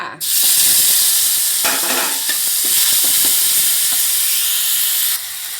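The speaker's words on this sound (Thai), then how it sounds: "กระทะร้อนแล้วนะคะพริกแกงลงเลยค่ะ" Red curry paste hits a hot wok with a sudden loud sizzle that settles into steady frying hiss, broken by scraping stirs, before easing off near the end.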